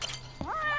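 A cat gives a single short meow in the video game Lost Judgment, brief and fairly faint over a low background hum.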